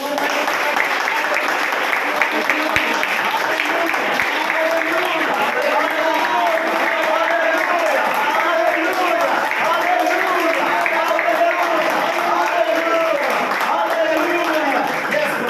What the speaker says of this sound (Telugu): గట్టిగా చప్పట్లు కొడుతూ ప్రభువుని